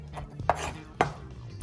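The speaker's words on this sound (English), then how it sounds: "start by chopping the chicken so you can season the chicken" Two sharp knife chops strike a cutting board while chicken is being cut for fried taquitos, spaced about half a second apart, close and distinct over a quiet kitchen background.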